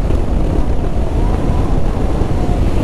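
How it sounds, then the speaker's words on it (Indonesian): Strong wind buffets the microphone of a motorbike rider on the Saradan to Bojonegoro road via the Atas Angin route, a loud, steady low roar that fills the clip without a break. "Anginnya kencang teman-teman"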